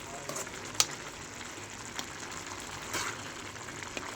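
Ridge gourd curry simmers in oil in a pan, giving a soft, steady sizzle and bubbling throughout, with a few faint clicks and taps over the low background.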